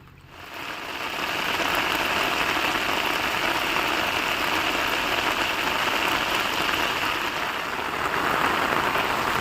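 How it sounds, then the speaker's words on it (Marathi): Heavy monsoon rain in Konkan pours down in a dense, steady roar that holds at full strength for the whole stretch after a brief quieter start. "भरपूर जोरात पाऊस इलेला"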